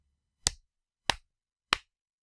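Three sharp, isolated hand claps, evenly spaced and close, used to sync Xbox game footage with a camera recording, each a crisp crack with a short decay in a quiet room.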